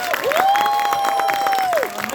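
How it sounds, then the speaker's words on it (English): Theatre audience applauds at a post-show Q&A, a steady crowd applause with some cheering that runs throughout under a sustained tone. "can everyone just one more big round of applause for all these people?"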